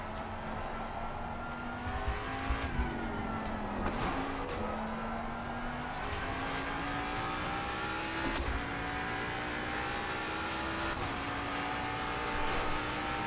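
Race car engine in a sim racing game, a steady onboard drone climbing in pitch through the gears with several quick shift dips, clicks and brief bumps, heard alone without voices.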